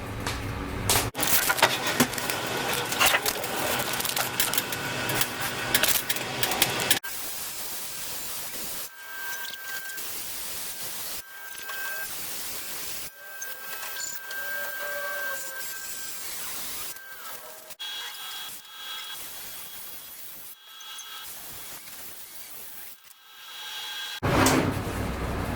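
Wood boards being ripped lengthwise into side rails for a blanket ladder, with a loud, dense burst of saw noise at the start and another near the end, and quieter shop sounds and clatter in between.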